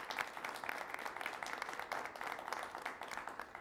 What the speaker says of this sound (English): how about a round of applause for all of our spellers who made it here to the finals today